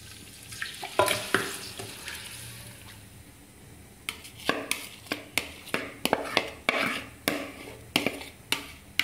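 Meat sizzling in hot oil for kacchi biryani, a soft frying hiss at first, then a run of loud, rhythmic stirring scrapes and clatters against the pot.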